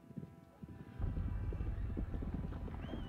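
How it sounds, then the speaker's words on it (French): Horses galloping in the distance in A Plague Tale: Innocence, a faint thudding of hooves that swells into a low, rumbling, continuous drumming after a quiet start, with no talk over it. "Oh là là, le galop des chevaux au loin."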